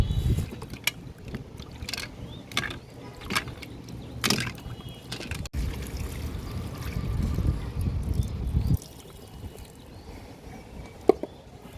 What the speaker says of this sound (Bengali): এই যে ছুলে আবার ধুয়ে নেওয়া হচ্ছে